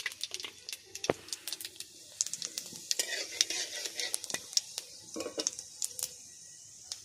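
A whole dried red chili dropped into hot oil left from frying shrimp for a Bengali vegetarian prawn dish, crackling and sizzling steadily with quick popping spatters, close by and with no talking.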